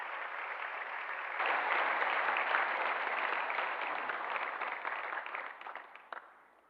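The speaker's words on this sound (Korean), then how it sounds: "박수로 한번 격려하겠습니다." Congregation applause during a Sunday church service, a broad soft wash of many hands clapping at a distance, swelling after a second and fading out toward the end.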